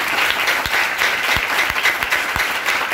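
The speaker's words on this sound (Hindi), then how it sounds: "यीशु के लिए जोरदार तालियां" A church congregation gives loud, dense applause, a continuous roar of many clapping hands close up with no talk over it.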